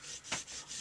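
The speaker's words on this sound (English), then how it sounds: "I'm going to rub some of that off, and then I'm kind of just going to go around the edges here" Paper towel rubbing shimmer paint off a painted surface and around the edges, a soft close scraping rub with a brief louder stroke in the middle, no talk.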